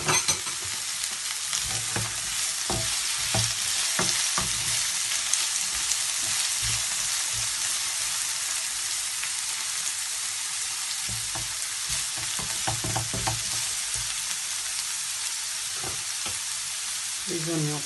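Carrots stir-fry in a hot pan for fried chicken noodles, giving a steady bright sizzle broken by repeated scraping and tossing strokes of the utensil throughout.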